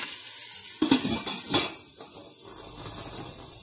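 Pork meat, patted dry, dropped into a very hot pot and searing with a brief burst of sizzling and clatter, then settling to a quieter hiss.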